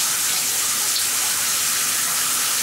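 Water runs steadily from a bathtub tap in a cramped bathroom as lathered hair is rinsed, a continuous broadband hiss with no talking.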